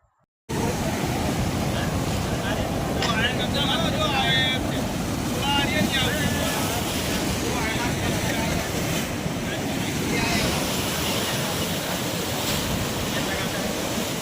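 Big sea waves crash and surge along the Dwarka coast while strong wind buffets the microphone, a loud continuous roar of surf and gusts throughout.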